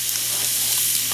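Steak searing in a hot pan for a birthday dinner, a steady close sizzle and hiss running evenly throughout with no voices.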